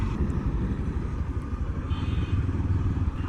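A motorcycle rides along an open road, its engine a steady close-up rumble with constant wind buffeting that carries on without a break from start to finish.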